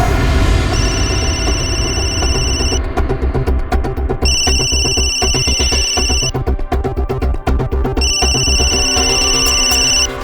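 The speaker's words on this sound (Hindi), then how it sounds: "फोन उठाओ।" Electronic telephone ringtone repeating in steady on-off bursts with high tones, loud and close, sounding over a dense music or drama score throughout.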